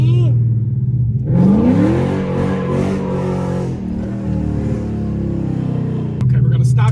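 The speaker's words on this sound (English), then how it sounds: "Sliding every corner, Kinky." A Chrysler 300 with a 5.7 Hemi V8 sliding around a corner, its loud engine roaring and rising in pitch as it revs, heard close from inside the car for several seconds with a steady droning tone.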